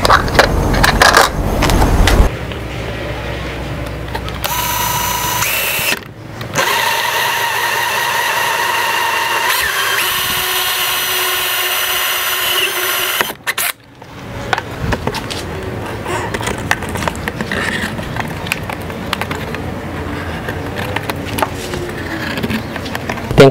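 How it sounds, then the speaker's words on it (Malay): A 40mm hole saw bores through a plastic tank wall for a 32mm tank connector, a loud continuous grinding whine with pitch shifts, brief stops and restarts, then rougher rasping cutting toward the end. "Untuk lubang tank konektor saiz 32mm ni, saya gunakan hole saw saiz 40mm."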